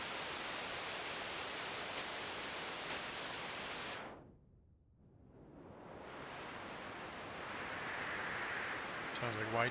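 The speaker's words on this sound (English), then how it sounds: "Sounds like white noise." Broad hissing white noise from a synthesizer's noise oscillator that filters down to near silence, then sweeps back open into full hiss, ending with a short click.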